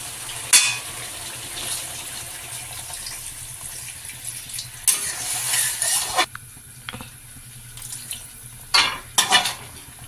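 Potato, eggplant, pumpkin and drumstick vegetables cook in a pan as water is added, giving a steady low sizzle broken by a few sharp spoon scrapes and clinks against the pot, close by with no talk.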